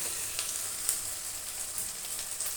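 Chopped ginger, onion, garlic and green chilli fry in hot oil, giving a steady, soft sizzle with small crackling pops, fairly quiet and close, with no talking.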